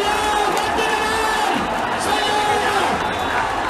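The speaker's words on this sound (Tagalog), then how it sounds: "Maririnig nyo ang palakpakan, hiyawan ng mga deboto" Devotees in a dense crowd clap and shout as the andas enters the gate of Quiapo Church during the Traslacion procession, a loud continuous roar of cheering and yelling with voices mixed through it.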